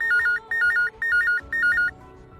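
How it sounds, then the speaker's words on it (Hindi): A telephone rings in a repeating electronic trill, four short bursts with brief gaps, clear and fairly loud against a faint musical background with no talking. "फोन बजा।"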